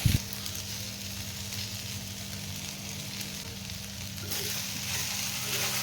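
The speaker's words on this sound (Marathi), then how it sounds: "भेंडी आपली व्यवस्थित तेलात परतली गेलेली आहे" Okra sizzling in hot oil in a pan, a steady, even crackle and hiss that carries on alone, close by, with a brief stir at the start.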